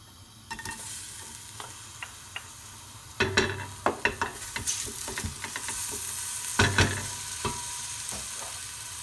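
Onions fry in a pot for a harira soup, giving a soft steady sizzle broken by repeated sharp scraping and clinking of a utensil stirring against the pot, close and fairly quiet, with no talk.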